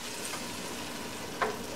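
Butter melts in a preheated cooking pot with a soft, faint, even sizzle and one brief stir or scrape near the end. No one speaks.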